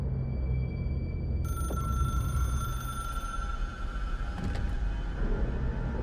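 Telephone ringing in the video game Control, a bright electronic bell tone starting abruptly and repeating, with a brief clatter near the end, no talk over it.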